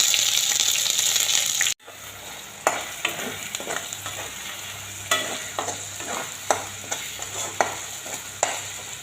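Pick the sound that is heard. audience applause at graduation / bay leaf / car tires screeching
bay leaf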